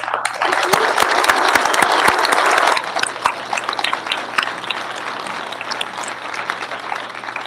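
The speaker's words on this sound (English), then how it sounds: "a huge round of applause" Audience at a National Grange honors night breaks into loud, dense applause that stays strong for a few seconds, then thins into scattered claps that continue to the end.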